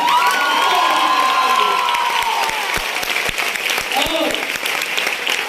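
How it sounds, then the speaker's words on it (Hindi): A crowd at a recognition ceremony bursts into loud cheering and whoops, then settles into strong, steady clapping with sharp individual claps standing out close by. "एक बार जोरदार तालियां।"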